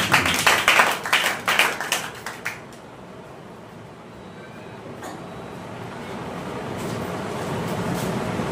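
A church congregation claps together during worship praise, a run of quick rhythmic claps lasting about three seconds before stopping, leaving a low steady room rumble.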